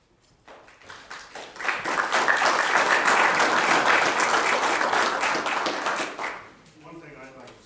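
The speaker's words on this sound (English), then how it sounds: "I applaud them for doing that." Applause from the audience at a Mifflin County-style school board meeting fills the room, a sustained burst of many hands clapping lasting several seconds before tapering off, with faint talk around it.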